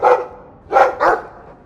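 A dog in the video game Dragon Age II barks three times in quick succession, loud and close, with a short gap after the first bark and no talk over it.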